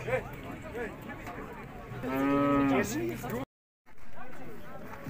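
A cow gives one long, low moo at the Urzhar livestock market, rising out of steady crowd noise and nearby talk, followed by a brief dropout.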